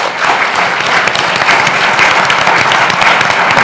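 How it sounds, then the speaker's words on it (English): An audience at a European carbon farming summit applauds a conference panel, loud dense clapping that fills the whole stretch evenly and close. "So I'd like to have a round of applause for our panel."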